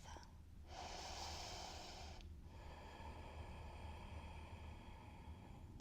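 Deep breathing during floor yoga, a single strong nasal inhale or snort-like breath lasting about two seconds, then a quieter continuing breath, close and soft.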